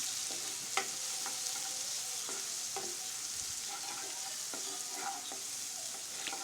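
Green chili paste frying in a pan for Maharashtrian curd kadhi, a constant soft sizzle with scattered light scrapes and taps of stirring, fairly quiet and without speech.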